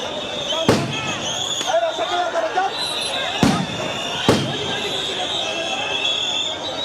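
Police sound grenades burst at a teachers' protest at Shahbag, Dhaka: three or four sharp, loud bangs spaced a few seconds apart, cutting through a steady wash of crowd and street noise.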